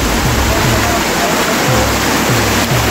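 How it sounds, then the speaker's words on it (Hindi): Waterfall on the Shrikhand Mahadev trek in the Himalayas, a steady broadband rush of falling water that stays loud and continuous throughout, with faint voice traces under the roar. "झरना देखिए कुछ इस तरीके का झरना है,"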